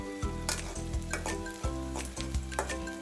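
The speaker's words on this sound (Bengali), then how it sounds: "পেঁয়াজটা একটু ভেজে নিচ্ছি।" Sliced onion fries in a pan for a chicken bhuna, giving a soft sizzle under a low steady hum, broken by several quiet scrapes and knocks of stirring.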